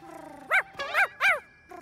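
Cartoon dogs in a PJ Masks animated episode let out three loud, close barks in quick succession, set against a faint background hum.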